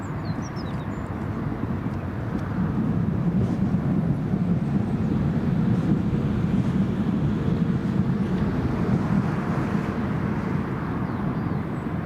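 A KLM airliner landing at Newcastle International Airport gives a steady, broad low roar that holds evenly throughout, with wind buffeting the microphone outdoors.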